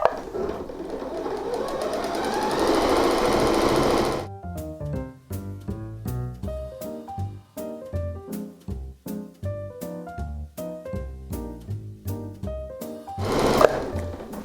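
A sewing machine resting on a quilted apron hums steadily for a few seconds, then stitches in a rapid, uneven run of clattering pulses, fairly close and loud, with no talking.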